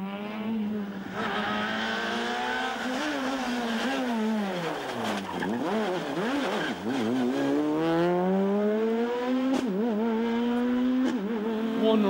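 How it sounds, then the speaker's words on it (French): A Proton rally car launches into a stage of the 2009 Rally of Kerry, its engine revving high then dropping and climbing again through gear changes, loud and close. "Donny O'Sullivan sur sa superbe Proton qui va s'élancer à son tour"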